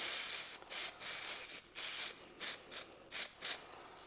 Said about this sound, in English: just lock it all in again with the layering spray